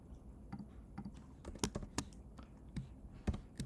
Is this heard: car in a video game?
no